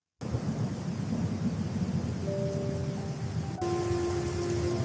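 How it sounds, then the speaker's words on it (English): Cartoon thunderstorm with a steady roar of heavy rain and rumbling thunder throughout, loud and continuous, with a brief tonal hum joining partway through. "The storm isn't over yet."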